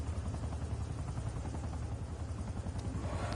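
Helicopter in the Black Ops 6 Zombies video game, a rapid chopping rotor pulse thudding steadily at moderate volume with faint game noises mixed in.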